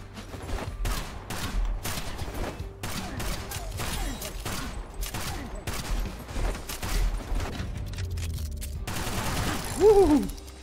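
Gunshots in the video game Kill the Crows come in rapid clusters of sharp cracks against steady game noise, and a player talks over the firing.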